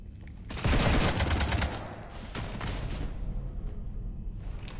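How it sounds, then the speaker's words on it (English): Rapid gunfire strikes a ship in Mass Effect 3: a loud, dense burst of shots erupts near the start, then continues as a quieter rattling volley that fades toward the end. "You want to stop shooting up my ship?"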